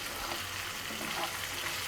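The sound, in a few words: garlic cloves frying in oil in a pan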